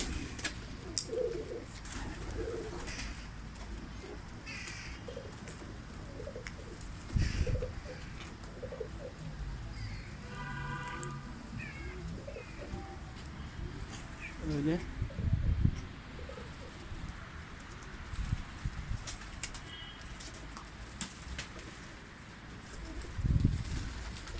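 Pigeons coo softly nearby amid rustling and movement, with occasional faint chirps and a voice in the background.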